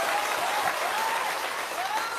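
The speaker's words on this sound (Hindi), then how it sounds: "एक बार जोरदार ताली बजाइए आदरणीय प्रधान जी को" A crowd at a Jan Suraaj gathering claps steadily for a couple of seconds, dense and fairly loud applause with no talking over it.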